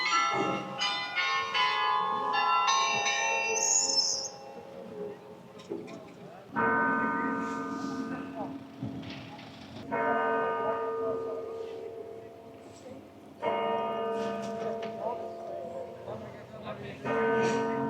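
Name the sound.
church bells ringing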